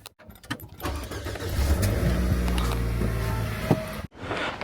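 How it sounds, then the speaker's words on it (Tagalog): A car engine starts with a short cranking burst, then settles into a steady idle to warm up on a cold pre-snow day in Japan, close and continuous before cutting out briefly near the end. "Painitan muna natin yung sasakyan bago tayo umalis."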